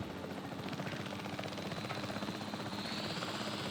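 Helicopter in Jurassic World Evolution 3 airlifting a creature: a steady, continuous rotor drone with rapid blade chop, moderately loud and unbroken throughout, with no voices over it.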